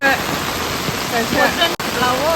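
Floodwater rushes loudly and steadily through a drain in Agartala, Tripura, a close, continuous wash of noise with voices talking over it.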